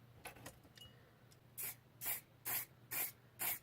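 Clear lacquer sprayed from a can over a custom Mad Max-style Chevelle model car: five close, loud hissing bursts in a steady rhythm, each about a third of a second, after a few faint clicks and rattles.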